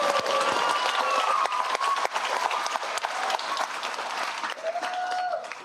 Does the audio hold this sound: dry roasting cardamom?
no